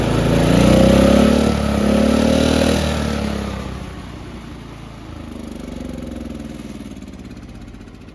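A John Deere 210 lawn tractor engine revs up loudly nearby, holds a high roar, then drops back to a steadier, lower running hum.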